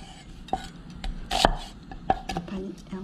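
Carrot being chopped on a cutting board for a spicy Korean chicken stew, with a few sharp, irregularly spaced knife knocks close to the microphone.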